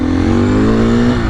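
A car engine hums loudly and close by with a steady rising tone, a brief pass of a vehicle at road speed, heard from a KTM 350 EXC-F motorcycle on a windy day.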